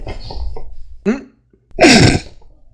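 A quick gasping inhale and a throaty sound lead into one loud, explosive sneeze, very close.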